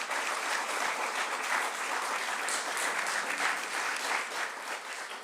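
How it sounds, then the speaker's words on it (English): Audience applause fills a city council chamber at a rededication event, a sustained, even patter of many hands clapping that tapers slightly toward the end. "I want to give a round of applause to Council Anderson"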